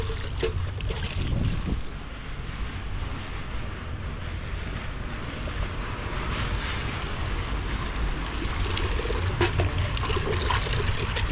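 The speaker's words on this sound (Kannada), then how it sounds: "ಈಗ ಗಿಡಕ್ಕೆಲ್ಲ ನೀರು ಹಾಕಾಯಿತು" Water is poured onto garden plants, with jasmine bushes blooming in summer. It makes a steady, close rushing and trickling wash that runs unbroken for the whole stretch.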